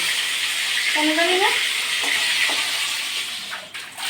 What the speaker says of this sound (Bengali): মাছের ঝুল করবো টমেটো দিয়ে কড়াইটার মধ্যে না লেগে যাচ্ছে